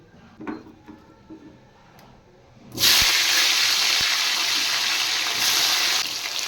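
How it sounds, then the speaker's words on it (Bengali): Washed yellowish potato pieces drop into hot oil: after a few quiet seconds with faint knocks, a sudden loud sizzling hiss bursts up and holds steady to the end. "এবার আলুগুলো তেলে দিয়ে দেব।"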